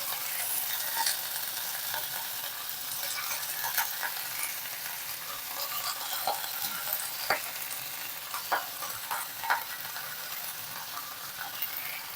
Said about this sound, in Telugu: ఇప్పుడు మనం ఈ కడిగి పెట్టుకున్న ఇది వేసేద్దాం, సొరకాయ ముక్కలు.